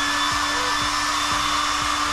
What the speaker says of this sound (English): and then you've got your hair dryer.